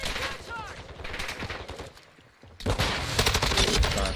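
Dense bursts of gunfire in Call of Duty: Modern Warfare 2022, loud and close, with rapid shots in clusters, a brief lull near the middle, then a heavier, sustained volley.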